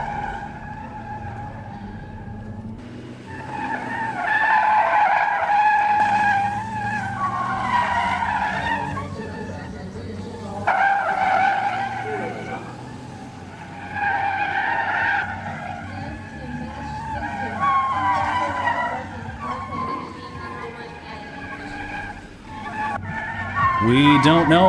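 Race cars in a gymkhana trial squeal and skid through repeated bursts of tire noise and engine revving at moderate distance, while a commentator talks over the action.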